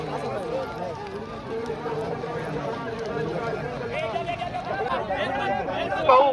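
Racing bullocks and carts thunder past at a bullock cart race, a rumbling run of hooves and wheels under crowd hubbub and an announcer talking over the event.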